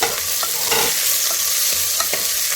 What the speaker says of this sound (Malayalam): അരിഞ്ഞു വെച്ചിരിക്കുന്ന നമ്മുടെ സവോളയാണ് ഇട്ട് കൊടുക്കുന്നത് രണ്ട് വലിയ സവോളയാണ് കേട്ടോ